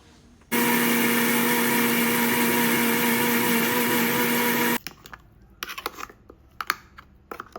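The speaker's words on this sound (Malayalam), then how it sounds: "പെരിഞ്ചീരകം ഉണ്ടായിരുന്നില്ല അപ്പോൾ അതിൻ്റെ പൊടിയാണ് എടുത്തിരിക്കുന്നത് അതുപോലെ തന്നെ ഒരു ചെറിയ മൂന്ന് പീസ് പട്ട കരയാമ്പൂ പിന്നെ കുരുമുളകിൻ്റെ ഉണങ്ങിയതും കുറച്ചിട്ടിട്ട് നന്നായിട്ട് അടിച്ചെടുക്കുക" A mixer grinder runs loud and steady, grinding fennel powder, three small pieces of cinnamon, cloves and dried pepper for a chicken fry masala, then stops, and a few faint clicks and knocks follow.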